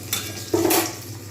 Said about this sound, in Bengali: ওই জন্য আমি মাছগুলোকে খুব ভালোভাবে ভেজে নিচ্ছি।